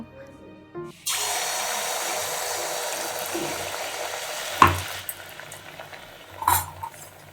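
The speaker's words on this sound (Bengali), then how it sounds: "আমি কয়েকটা তেলে ভাজা পিঠে ভেজে দিয়েছিলাম" Pitha rice cakes frying in hot oil give a steady, close, broadband sizzle that starts abruptly after a second of quiet and carries on, with a couple of sharp clinks or stirring knocks near the end.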